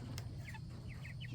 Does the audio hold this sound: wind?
no